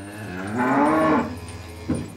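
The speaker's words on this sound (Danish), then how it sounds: "Det er køer." Cow on a Danish dairy farm gives one long, loud, close moo lasting under a second, followed by a short snort or grunt, with no talk.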